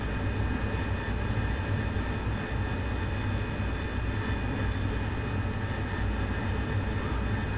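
Jet aircraft engine on a night carrier landing approach, a constant dense roar and rumble heard from the cockpit, steady and unbroken throughout.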